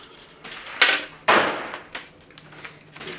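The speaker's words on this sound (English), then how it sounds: "I'm going to use this to basically start cleaning the little tiny indentations here of the spindle itself" A small cleaning tool scrubs carbon from the spindle of a double action revolver cylinder, giving a few close, brisk scraping strokes with short pauses between them.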